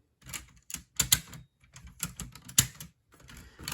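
Plastic parts of a 2001 Transformers: Robots in Disguise Omega Prime toy clicking into place. A quick series of sharp, close clicks and small knocks comes in uneven bursts, with no talking.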